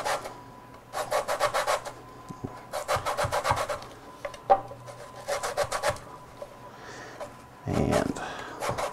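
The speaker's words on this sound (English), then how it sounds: "We need about a half a teaspoon of orange zest. So I'm going to put this in my zester here." An orange rubbed against a kitchen zester gives repeated bursts of close, dry rasping scrapes in short rhythmic strokes, separated by brief pauses and a few soft knocks.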